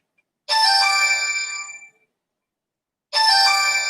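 Twice a phone's melodic ringtone chimes, each bright tonal burst lasting over a second with a gap of silence between, close and clear with no talking.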